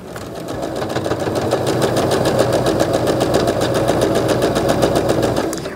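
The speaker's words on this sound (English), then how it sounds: "I'll whip this up on the sewing machine" A sewing machine stitches at a fast, even rhythm, its rapid needle clatter running steadily for several seconds before stopping.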